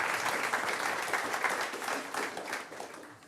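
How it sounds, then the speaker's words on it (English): An audience at a conference on international humanitarian law bursts into dense, loud applause right after a panel of four speakers, fading slightly toward the end. "A round of applause as we've finished all four speakers."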